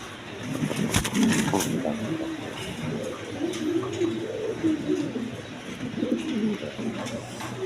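A pair of big satin pigeons coo in soft, rolling phrases that rise and fall across several seconds, set against a low murmur, with a sharp tap early on.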